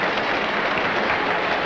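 A Pittsburgh baseball crowd at the 1960 World Series roars in a dense, continuous wash of cheering and clapping, loud and close with no pauses.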